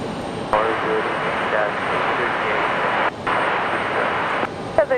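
A fixed-wing aircraft flying practice touch-and-goes at Raleigh Durham International Airport, its engine roaring steadily at moderate distance for several seconds, with brief dips and voices heard faintly underneath.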